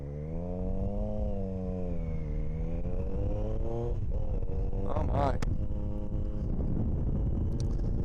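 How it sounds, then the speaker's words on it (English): A 2020 Triumph Street Triple RS motorcycle engine drones steadily with rising and falling pitch, loud and close, as a voice briefly exclaims partway through. "That exhaust note is really, really interesting."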